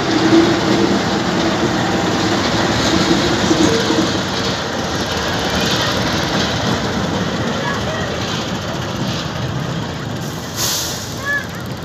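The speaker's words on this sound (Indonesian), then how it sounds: "sebuah lokomotif yang akan mengangkut" A locomotive at a Jakarta–Bandung high-speed rail depot crossing, getting ready to haul a special train of rails, makes a steady, broad rumble with air-brake hiss throughout and a brief brighter squeal near the end. Some faint talk sits underneath.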